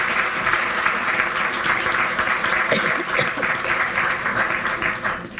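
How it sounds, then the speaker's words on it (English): Audience applause at a Harvard evening talk, a dense steady clapping from a large crowd that stays loud throughout before tapering slightly at the end. "So another round of applause."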